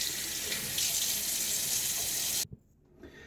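Tap water runs steadily into a sink while a shaving brush is rinsed, a loud constant hiss that cuts off abruptly near the end, followed by faint handling sounds.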